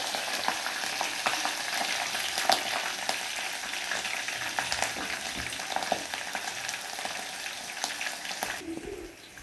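Green chilies, cumin and mustard seeds frying in oil in a pan on low flame, a continuous close sizzle with scattered pops and crackles that suddenly drops away near the end.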